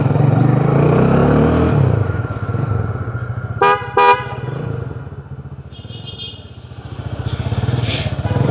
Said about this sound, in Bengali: এই বাইকের একটা মজার জিনিস, পপ হর্ন।